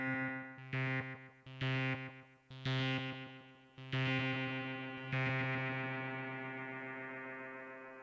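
Reason RV7000 Advanced Reverb set with a high wet mix on a distorted, synth-like sustained tone: a few loud chord hits in a row, each leaving a long, smeared reverb tail that rings out near and clear with no talking.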